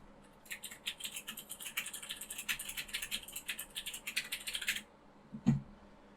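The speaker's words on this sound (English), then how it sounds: "And yes, my keyboard is that loud." Rapid, clattering keystrokes on a loud computer keyboard go on for several seconds without a voice, then stop, followed by a single thump.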